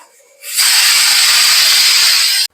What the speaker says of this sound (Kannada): ಇನ್ನೊಂದು ವಿಷಲ್ ಕೂಗ್ತಾ ಐತೆ ಆಫ್ ಮಾಡ್ಬಿಡ್ತೀನಿ